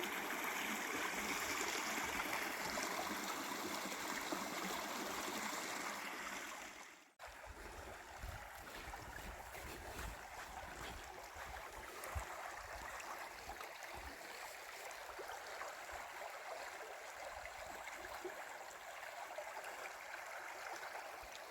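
The Dan River flows steadily in a continuous, broadband rush of water, loud and close at first, then dipping briefly and resuming slightly softer and more even, with no voices.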